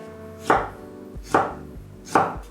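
A knife chopping potatoes into small pieces on a cutting board, three sharp, evenly spaced thuds close up, each followed by a short ringing tail, with quiet between strikes.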